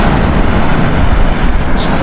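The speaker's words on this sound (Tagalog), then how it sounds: "So ganyan po yung alon, no?" Sea waves breaking at low tide on a Greenland shore, a loud, continuous rushing wash mixed with heavy wind buffeting the microphone, with no voices heard.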